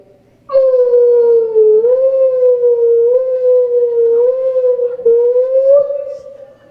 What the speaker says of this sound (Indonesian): aya ambulan